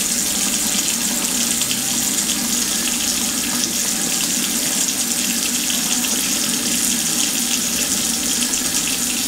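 Tap water pours steadily into a container while a sourdough starter is being fed, a continuous loud, close rush of running water with no speech.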